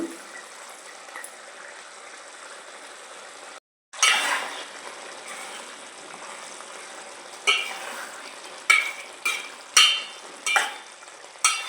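Small dried fish frying in a pan in a village kitchen, with soft sizzling under sharp metallic scrapes and clinks of a ladle stirring, repeated in spaced strokes near the end.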